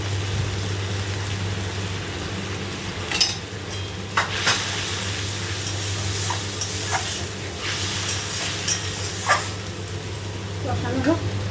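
Spice masala with turmeric, green chili and a splash of water being fried in a pan, a soft steady sizzle with occasional clinks and scrapes of stirring, close by, while someone talks over it.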